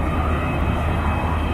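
Avro Vulcan XH558 jet bomber passing at an air display at Waddington with undercarriage down, a loud, steady engine roar filling the whole brief stretch.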